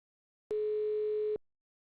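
A single steady electronic phone ringing tone sounds for about a second, clean and alone against silence.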